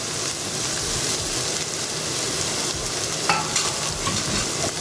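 Capsicum sautés in a hot pan for street-style Chinese bhel, a dense, close sizzle with stirring scrapes and a brief metallic clink near the end, no voices.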